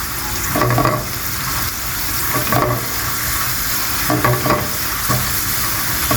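Onions and pine nuts frying in hot oil, a steady sizzle with periodic stirring scrapes, close and fairly loud.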